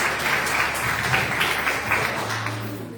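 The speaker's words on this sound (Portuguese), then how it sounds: "Aplaudamos mais uma vez em nome do Senhor." A church congregation applauds in a continuous, dense patter of clapping that lasts about three seconds and fades toward the end, with no talking over it.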